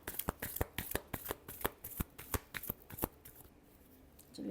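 Tarot cards being shuffled in a rapid run of crisp riffling flicks, close and fairly quiet, thinning out to near silence at the end.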